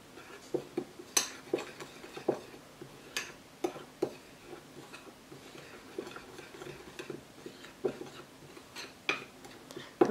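Seasoned tofu being mixed in a bowl, with irregular light clicks and clinks of a utensil against the dish, quiet and close, spaced out over several seconds.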